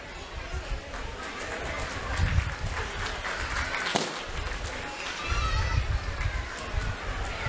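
Audience applause at a school annual function, a sustained wash of clapping from a crowd with children's voices and chatter mixed in, swelling in bursts while an announcer speaks over it.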